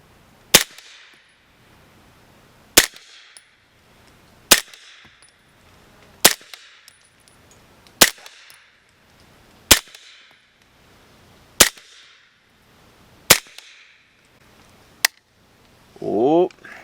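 Ten rifle gunshots fire one by one at an even pace about two seconds apart, each a loud sharp crack with a short echo, followed by a brief rattle at the end.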